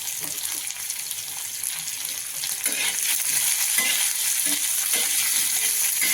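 Chopped onion sautéing in hot oil for a Maharashtrian Ravan tawa pithla, a steady bright sizzle with occasional stirring scrapes that grows slightly louder partway through, close and continuous.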